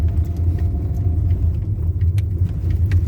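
Car rolling onto a rough road toward the Ganges, heard from inside as a steady low engine and road rumble with light rattles and bumps, no talking.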